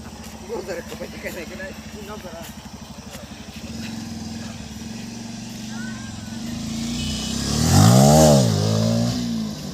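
Motorcycle revving for a wheelie stunt at a group stunt gathering, engine idling and building steadily before a loud close burst of revving near the end, with people talking over it.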